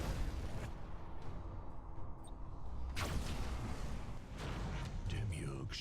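Explosions from a bombing run in the space strategy game Battlefleet Gothic Armada 2, heavy booms rolling in over a dense, continuous battle din, with a sharp blast around the middle and more impacts later.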